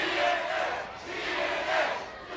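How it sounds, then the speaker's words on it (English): A wrestling arena crowd roars in a steady loud wave of cheers and shouts that rises and falls twice, with no clear speech over it. "The crowd on their feet, standing room only."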